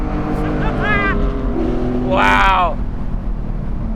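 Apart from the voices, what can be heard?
Porsche 718 Spyder engine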